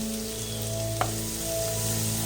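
Yogurt stirred into a thick fried masala for egg biryani over a low gas flame, giving a steady low sizzle with one brief spoon clink near the middle, close and continuous with no talking.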